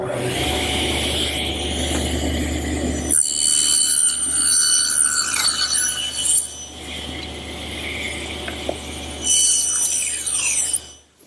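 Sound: table saw cutting rabbets in wood

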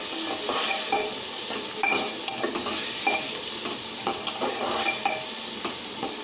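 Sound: vegetables and masala stirred and sizzling in pan

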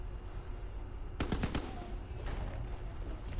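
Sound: gunfire in Zombies video game

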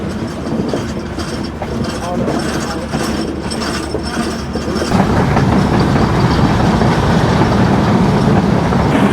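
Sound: Drutojan Express train going through a big curve

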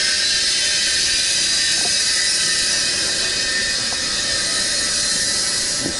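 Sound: Fieldpiece MR45 refrigerant recovery machine running

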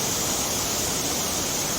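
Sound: Li Phi waterfall rushing, Don Khon, southern Laos

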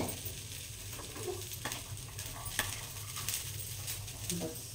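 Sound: mixing salad ingredients in a bowl

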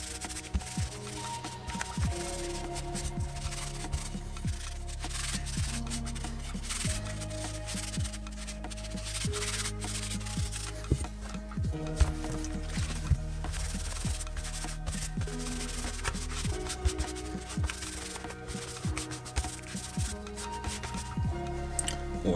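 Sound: rubbing an airsoft replica to degrease it with solvent

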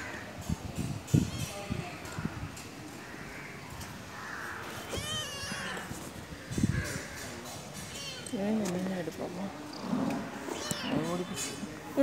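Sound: cat meowing while a boy plays with it

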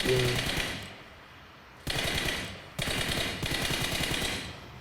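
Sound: gunfire in video game PUBG Mobile

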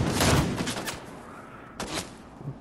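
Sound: gunfire from enemies in the video game Fortnite

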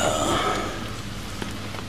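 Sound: rain falling outside

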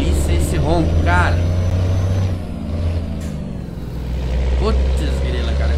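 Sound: truck engine rumble in Euro Truck Simulator 2 video game

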